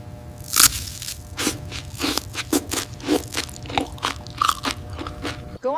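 Roasted salted peanuts being chewed up close, a run of sharp crunches and crackles at an irregular bite-by-bite rhythm, with no voices.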